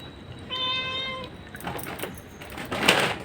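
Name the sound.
cat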